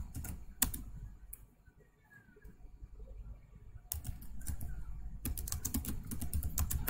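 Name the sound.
typing text on a computer keyboard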